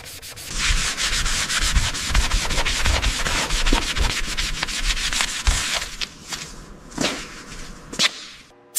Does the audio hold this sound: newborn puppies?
no